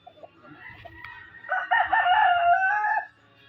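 A white Kelso gamecock rooster crows once, loud and close, a full drawn-out call after a few soft clucks and rustles, with quiet background noise.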